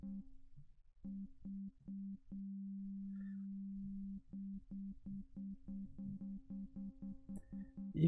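A sine tone run through Ableton Live's Resonators effect, giving a steady pitched drone that breaks into a rhythmic pulsing pattern of repeated resonant notes, clean and alone with no talking.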